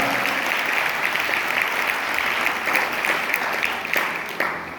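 During a Christian church service, the congregation breaks into loud, dense applause, many hands clapping together in a steady wash for several seconds with scattered sharper claps standing out near the end.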